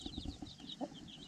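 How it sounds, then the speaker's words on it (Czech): A hen clucks as she is caught in a farmyard coop, a few quick, soft low clucks close by with faint chick peeps behind. "Takže nejprve chytnu slepici"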